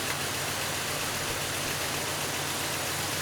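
A car engine idles steadily at about 890 RPM with one fuel injector disabled, a constant low rumble and hum without breaks, close and even, with no voices.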